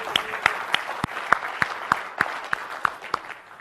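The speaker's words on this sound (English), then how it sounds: "I know it's so simple, but let's just clap for that." Sparse, scattered clapping from a conference audience during a technical talk, a dozen or so distinct claps spread over a few seconds, fairly close and modest in volume.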